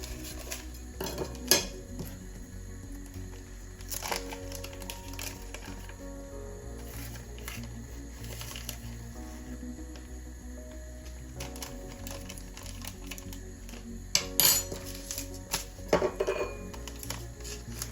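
Cake batter for sour-cream cupcakes mixed by hand in a bowl, without a mixer: steady clinks and scrapes of a utensil against the bowl with a few sharper knocks, close and alone.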